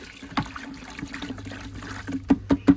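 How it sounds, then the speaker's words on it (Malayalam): Water trickles and splashes in short bursts into a thick cement mix, with a low steady hum beneath and a few louder wet slaps near the end. "കുറച്ച് വെള്ളം ഒഴിക്കുക"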